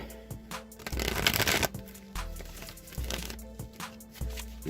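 Tarot cards shuffled steadily and close up, a dense papery riffle with rhythmic taps as the deck is squared, no voices.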